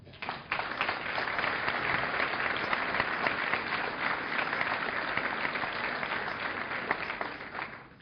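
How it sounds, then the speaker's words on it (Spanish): An agricultural congress audience breaks into dense, sustained applause for the organizing staff, beginning abruptly and holding strong for several seconds across a large hall. "Para ellos, también un aplauso."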